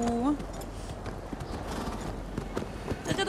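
A horse neighs briefly at the start, then hooves clip-clop rapidly in a galloping rhythm over a busy background, in the video game Ghost of Tsushima.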